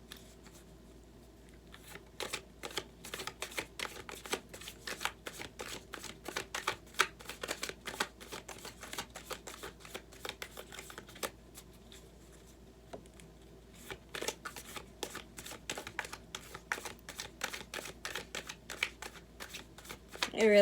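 Tarot cards being shuffled, continuous crisp riffling and flicking with brief pauses, close and fairly loud, with someone speaking softly at times.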